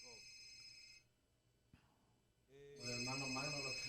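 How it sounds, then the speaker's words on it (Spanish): Telephone ringing in a radio studio during a Spanish-language show, heard as two bursts of a harmonic electronic ring separated by a short pause, the second louder, with people talking. "Hay un teléfono ahí sonando."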